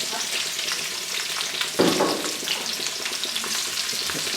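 Onions and garlic frying in a pan, a steady close hiss and crackle that runs throughout, with a brief louder burst of sizzling partway through as the ingredients are stirred.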